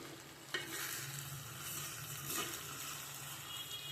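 Salt being stirred into meat curry in a small clay pan gives a soft, quiet bubbling and sizzle with a couple of stirring scrapes.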